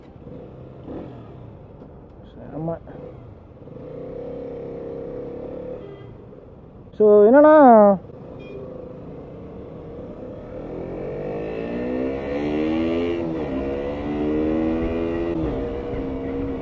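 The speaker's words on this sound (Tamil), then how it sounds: "பைக் இப்போ நம்ம ஸ்டார்ட் பண்ணலாம்." A KTM RC 125 motorcycle engine runs with a low hum. A loud sharp burst comes partway through, then the pitch climbs and falls in repeated revs. A few words are spoken briefly early on.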